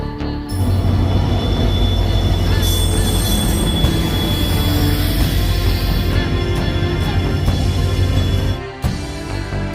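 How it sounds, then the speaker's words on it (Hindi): Train pulling into a station, its wheels squealing in a long, high, steady screech over the rumble of the rail cars, loud and close, fading near the end. "मेरी ट्रेन है अभी 9:45 पे, तो ट्रेन का इंतज़ार कर रहा हूँ मैं"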